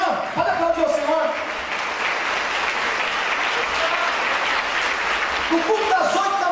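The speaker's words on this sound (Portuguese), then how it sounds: "Pode aplaudir ao Senhor." Congregation applauding during a church service, a loud, dense burst of clapping that fills several seconds, with a preacher's voice heard at the start and end around it.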